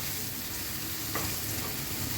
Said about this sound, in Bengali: জাস্ট একটু নেড়ে টেড়ে নামিয়ে নিলে হয়ে যাবে মজাদার ভেজিটেবল